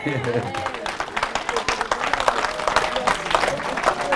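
A church congregation applauds the Lord during a French-language sermon, with dense, steady clapping filling the room throughout and sparse voices mixed into the crowd.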